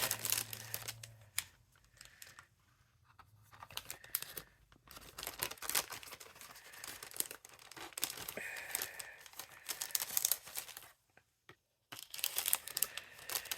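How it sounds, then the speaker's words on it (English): A plastic bag crinkles and rustles in irregular bursts as metal craft dies are put back into it at a card-making table, with a few brief quiet gaps and no talking. "Look at this bag. And I'm trying to put the dies back in."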